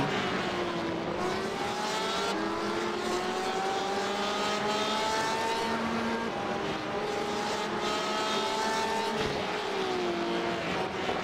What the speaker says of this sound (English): I'm watching the Porsche. which sounds amazing.